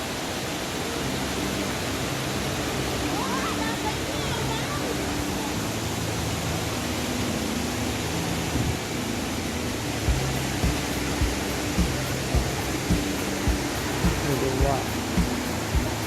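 Continuous rushing water roars steadily from Khlong Lan waterfall in Thailand, a broad hiss with faint talk beneath it.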